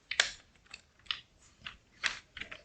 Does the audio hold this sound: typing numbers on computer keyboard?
yes